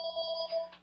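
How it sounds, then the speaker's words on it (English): A telephone rings in the background, giving a steady electronic warbling tone that lasts under a second at moderate volume, with no voices over it. "I apologize for the phone ringing in the background."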